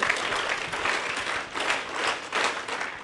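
An audience at a session claps together in a rhythmic group clap, dense applause that surges and dips in loose waves while staying loud throughout.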